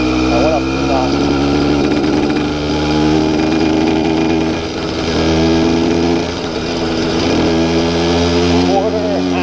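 A tuned Dio Reed YD100 scooter engine revving at quarter to half throttle, a loud buzzing two-stroke drone that rises and falls close by, with a brief dip midway.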